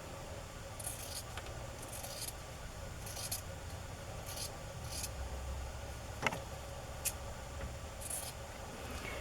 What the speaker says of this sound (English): I'm going to trim that white off.